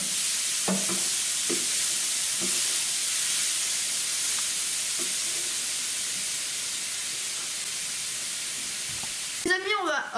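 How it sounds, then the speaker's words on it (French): Ground beef browns in a hot pan with a steady, loud sizzle, and a few soft scrapes and stirs of the meat sound over the constant frying hiss. "Et maintenant, on fait revenir le steak haché."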